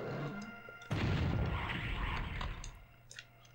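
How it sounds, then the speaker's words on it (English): A shotgun blast in the video game Doom 64: a single loud, heavy boom bursts in and rolls on as a dense crash, then fades over a few seconds, with no talking. "I realize I've done this entire level with the shotgun."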